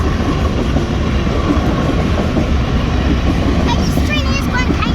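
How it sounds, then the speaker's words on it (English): A BNSF freight train led by a 25th-anniversary heritage unit locomotive rolls past slowly and close, with a loud continuous rumble and clickety-clack of wheels on rails, and voices faintly over it. "But this train is going kind of slow, actually."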